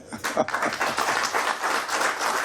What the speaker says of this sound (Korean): 다시 박수를 제가 제안을 합니다